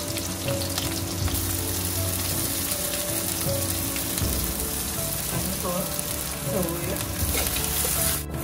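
Chilies and onions sizzling steadily in a hot pan for crispy dry Manchurian, a continuous close frying hiss with occasional stirring scrapes.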